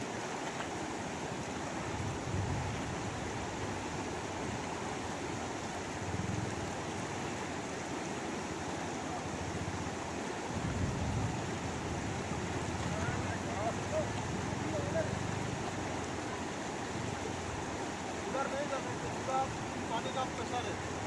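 Strong, pressurized water rushing steadily around waders in a river in Assam, a continuous broadband roar up close with low splashing surges throughout.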